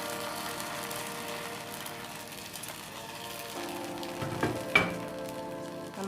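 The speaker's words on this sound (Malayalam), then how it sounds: "ഇതിലേക്ക് നമുക്ക് വറവ് ഒഴിച്ചു കൊടുക്കാം." Hot fried coconut tempering hits a pot of curry with a soft, continuous sizzle and crackle, rising into a brief louder burst of spitting and clatter toward the end; no one speaks.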